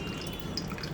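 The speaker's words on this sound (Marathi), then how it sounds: "तर आता आपल्याला ह्या छोट्याशा भांड्यात पाणी टाकायचं आहे." Water trickles and drips into a small pot, a faint light splashing close by with no talking.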